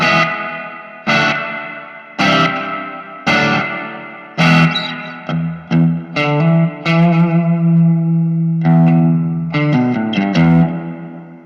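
Electric guitar notes and chords through a Vox AC10C1 amp with reverb at 50 percent ring out in a steady run, each trailing a heavy reverb wash that lingers between strikes.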